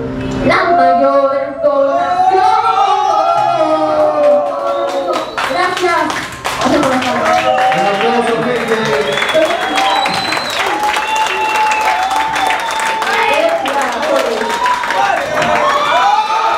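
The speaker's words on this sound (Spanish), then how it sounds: "Un aplauso, gente." An audience claps and applauds after a poetry performance, steady and fairly loud across the whole stretch, with voices and harmonic vocal sounds mixed in throughout.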